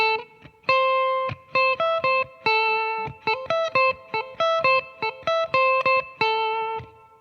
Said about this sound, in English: I'm just going to play the chord tones.